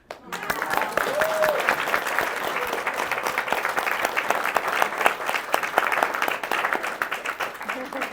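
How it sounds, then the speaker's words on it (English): An audience at an expo presentation applauds itself, a dense, steady wash of many hands clapping that begins abruptly and holds loud and even throughout, with a brief high whoop early on. "And I wonder if you could clap for yourselves."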